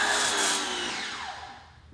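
A pressure washer sprays through a MaxShine Snow Master foam cannon fitted with a 1.1 mm orifice: a loud, hissing spray that fades and winds down over two seconds, with no talk.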